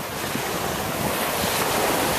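Wind gusting across open Venice Beach on a warm day, a steady broadband roar with surf washing underneath and no one speaking.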